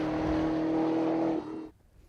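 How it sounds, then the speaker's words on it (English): The supercharged V8 of a 2019 Chevrolet Camaro ZL1 1LE holds a loud, steady engine drone with a strong hum for over a second before the sound cuts off sharply, leaving a faint tail and no speech. "We've also got just as much noise through a fantastic supercharged"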